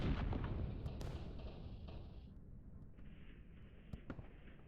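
Rockets launch in the Line War strategy game, a dense roar of artillery-like booms and blasts with sharp pops and a lingering rumble, loud and continuous with no voices.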